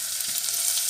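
Ingredients for liver pâté sweat in a pan with a steady, soft, hissing sizzle that runs evenly through the short moment.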